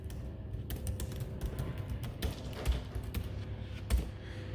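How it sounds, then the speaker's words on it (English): Someone types on a computer keyboard in quick, uneven bursts of close clicking keystrokes, with a few louder taps standing out and no talking. "I can type"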